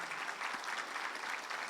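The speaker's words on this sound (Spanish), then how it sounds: "Un aplauso al Señor." Congregation clapping for the Lord during a Spanish-language church service, a brief steady patter of many hands, fairly quiet and distant but continuous throughout.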